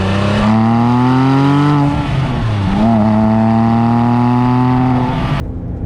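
A 2010 Porsche 997 GT3 RS 3.8 with a manual gearbox and 450 hp revs hard and close, its flat-six rising in pitch, briefly dipping at a shift around two seconds, then climbing again before a sudden stop.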